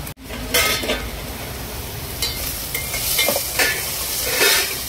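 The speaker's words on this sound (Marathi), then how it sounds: "मस्त फ्राय झाले." Vegetables for a soup fry and sizzle in a pot, with a continuous close hiss and the repeated scrape and clatter of a spoon stirring against the metal.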